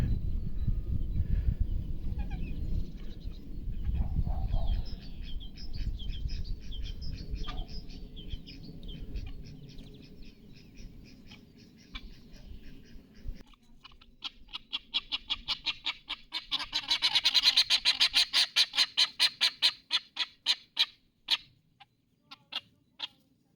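A bright run of rapid, repeated quacking calls rises to a loud burst and then trails off, following a stretch of low rumbling noise.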